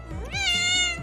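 A house cat gives one clear, close meow, rising in pitch and then holding a bright, drawn-out tone before trailing off.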